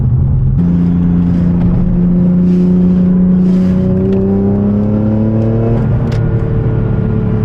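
A little green Honda with a temporary tag drives along a rough, rundown road, its engine revving and climbing steadily in pitch as it accelerates. The sound is loud and close throughout, with no talk over it.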